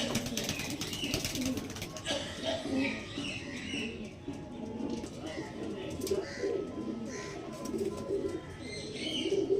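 A loft of Andhra Madras pigeons coos in soft, repeated throaty rolls, several birds overlapping continuously at close range, with chirps and occasional faint voices mixed in.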